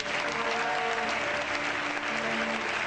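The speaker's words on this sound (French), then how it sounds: "Est-ce qu'on peut acclamer le Seigneur?" A church congregation at a prophetic gathering applauds steadily, a dense, continuous wash of clapping from many hands with a few raised voices and cheers mixed in.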